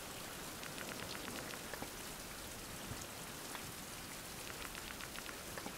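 Steady rainfall in the survival game Fountain of Youth, a dense even patter of drops on surfaces that runs unbroken and fairly quiet, with no voices over it.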